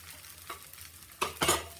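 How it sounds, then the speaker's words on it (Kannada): Akki rotti frying on a hot pan as it is flipped over, a soft sizzle that swells into two louder hissing bursts near the end, close by and without speech. "ಇವಾಗ ಉಲ್ಟ ಹಾಕ್ತಾಯಿದ್ದೀನಿ."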